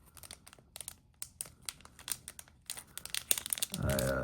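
A trading card package being opened by hand at close range, with bursts of crinkling and tearing plastic wrapper, irregular crackles separated by brief pauses, ending in a louder sustained rip.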